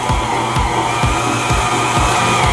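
An electric stand mixer creams brown sugar, white sugar and butter for lactation cookie dough, giving a steady close whirring drone with a faint rhythmic thump on each beater turn.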